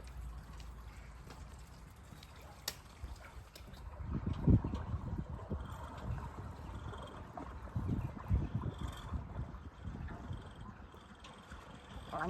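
Narrowboat cruising along a canal among the Lancashire hills, with a low, soft engine rumble and faint water and wind noise, quiet and steady throughout.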